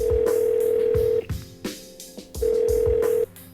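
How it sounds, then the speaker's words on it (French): Telephone call being placed to Paris during a radio broadcast: loud steady dial tone, a break with a few short dialing beeps, then the tone returning, close and clear. "Nous allons tout de suite joindre Olivier Rollin par téléphone à Paris."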